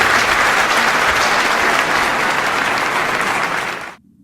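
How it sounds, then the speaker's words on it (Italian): Audience applause after a Sicilian-language dramatic recitation of Romeo and Juliet, a dense, loud, steady wash of clapping hands that holds for about four seconds and then stops abruptly. "a cui sicuramente in questo momento desidero un nostro applauso di cuore"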